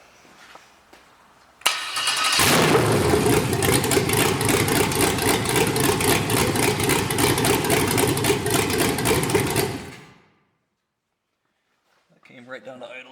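An LS truck engine running on MegaSquirt 2 cranks over, catches and settles into a steady, loud, even idle for about eight seconds before shutting off, with a voice briefly heard afterward.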